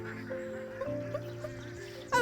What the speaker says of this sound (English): And those are the ducks